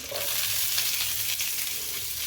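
Onion tipped into ginger-garlic paste frying in hot oil, giving a steady, dense sizzle that holds close and even throughout with no talking.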